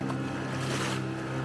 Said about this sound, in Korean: 보트에 몸을 싣고 바다로 나가면 거대한 해안 절벽을 만나게 된다